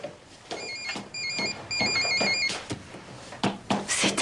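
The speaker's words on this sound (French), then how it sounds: "Ah, c'est mon téléphone." A telephone ringing in a TV drama scene, repeated bursts of electronic ringtone chirps, fairly close, with household sounds and brief noises between rings.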